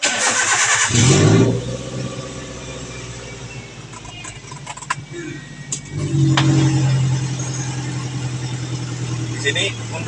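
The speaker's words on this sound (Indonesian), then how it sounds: "Setelah itu kita nyalakan mesin dan hidupkan AC." A car engine cranks and catches during routine servicing on a lift, then settles into a steady idle with the air conditioning switched on, with a person talking nearby.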